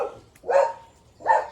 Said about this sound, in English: And that's my dog going crazy.